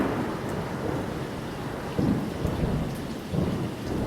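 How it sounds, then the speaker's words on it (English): Steady rain pours outdoors during a thunderstorm, with low rumbles of distant thunder swelling briefly twice beneath the constant hiss. "you can kind of hear the thunder here"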